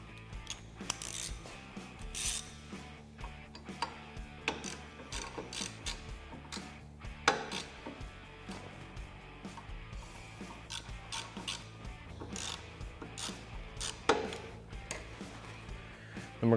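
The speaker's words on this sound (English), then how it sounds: "we'll go ahead and tighten our hardware up for our brake line clips." Ratchet wrench tightening brake line clip hardware on a Can-Am Maverick Sport: quiet, irregular bursts of rapid mechanical clicking with short gaps between strokes.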